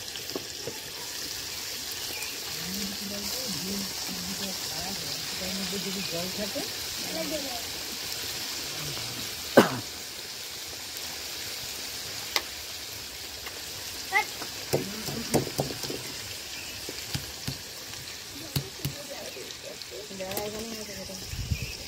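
Red amaranth leaves frying in hot oil with tempering spices, a steady crackling sizzle with occasional stirring clinks and pops, under someone talking throughout.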